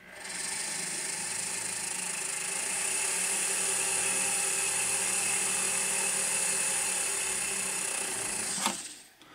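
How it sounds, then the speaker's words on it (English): A small high-speed drill with a small bit whines steadily for several seconds at close range, drilling a pilot hole straight through a piece for jewelry stone setting, then stops with a brief clunk. "And drill a hole straight through."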